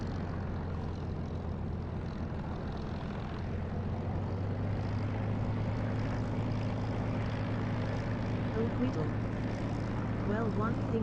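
Steady propeller aircraft engine drone from a flight simulator game during a takeoff roll, a continuous loud hum with low tonal bands that rises slightly toward the end.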